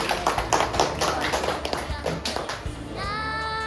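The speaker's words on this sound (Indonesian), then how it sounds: "Tepuk tangan buat Bintang." A class of children applauding a classmate, with rapid, loud clapping from many small hands for nearly three seconds before it stops and a voice speaks.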